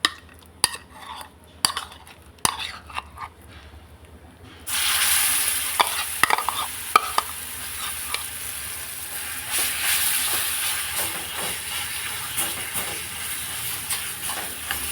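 Tamarind-cucumber chutney being stirred into hot peanut or gingelly oil in a pan after the heat is turned off: a sudden loud hiss and sizzle with spoon and pan scrapes, easing into a steady crackle after a few quiet clinks.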